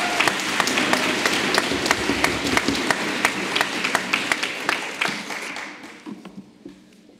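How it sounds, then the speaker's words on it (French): Audience applause in a lecture hall fills the room with dense clapping and a few sharp distinct claps, steady for several seconds before thinning out and fading toward the end. "S'il vous plaît, un tonnerre d'applaudissements pour notre ancien Rice, René Coty."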